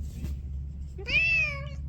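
A cat gives a single clear, drawn-out meow near the microphone, preceded by a faint short chirp over a low steady background hum.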